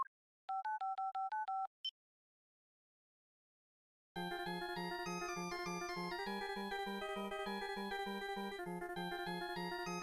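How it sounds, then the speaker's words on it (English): Cell phone dialing in the Ace Attorney Apollo Justice video game: a quick run of seven keypad tones plus one more beep, a pause of silence, then a loud, steady melodic ringtone plays on with a pulsing beat. "That's one heck of a ringtone."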